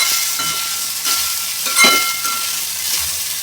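Soaked sabudana, tapioca pearls, stirred and fried in a pan over a low gas flame for khichdi: a continuous soft sizzle and hiss with faint scraping stirs, close and steady.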